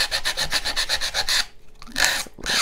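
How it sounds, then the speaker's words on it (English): Sandpaper rubbing over the edge of a wooden paint stick to take off splinters, a quick run of even back-and-forth rasping strokes, a short pause, then a few more strokes, close and fairly loud. "I'm just taking the splinters off."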